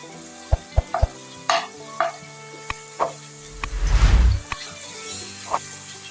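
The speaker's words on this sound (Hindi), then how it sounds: "पहले हम प्याज को थोड़ा सा फ्राई कर लेंगे।" Onion, green chili and ginger-garlic paste fry in a karahi with a loud sizzle, while a spoon clatters against the pan in sharp knocks and a stirring burst builds toward the middle.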